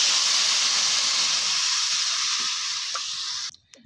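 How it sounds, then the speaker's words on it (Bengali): Water hits a hot pan of shrimp and taro and sets off a loud, steady rushing hiss of steam that holds for about three seconds, then cuts off abruptly. "কিছুক্ষণ নাড়াচাড়া করার পর এবার আমি পরিমাণ মতো জল দিয়ে"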